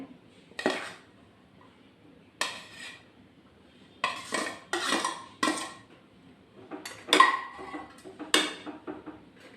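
Cooked rice is stirred and mixed with a metal spoon in a pan for orange chitranna, giving bursts of scraping and clinking in irregular clusters with short pauses between them, close and fairly loud, with no talking.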